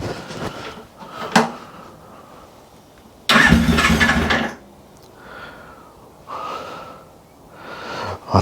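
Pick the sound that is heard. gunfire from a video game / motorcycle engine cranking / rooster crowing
motorcycle engine cranking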